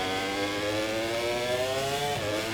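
Racing motorcycle engine in the MotoGP 24 video game, a sustained high-revving whine that climbs steadily in pitch before dropping briefly near the end, loud and continuous.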